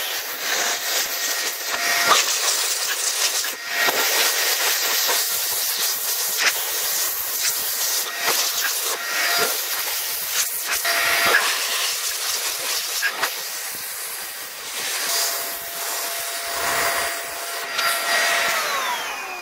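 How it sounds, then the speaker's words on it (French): Small handheld air blower hissing steadily as it blasts dust out of the filter grille on an ALLPOWERS S2000 Pro power station, a close continuous jet with short pauses and shifts in pitch. "Franchement, trop pratique ce petit souffleur."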